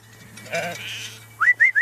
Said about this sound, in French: Mais depuis quelques mois, Fanny a décidé de revenir à ses moutons